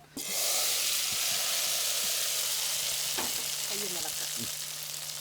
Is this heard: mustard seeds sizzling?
yes